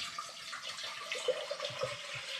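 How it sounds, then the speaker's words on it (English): Water poured from a tap into a saucepan for brewing ginger ale, a soft steady splashing and trickle, faint and close, with no voices. "So I'm just going to add a bit of water into this saucepan"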